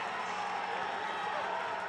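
A hockey crowd at an Army versus Air Force game in Fairbanks, Alaska, fills the arena with a steady, broad roar of cheering that holds at an even level without any clear peaks.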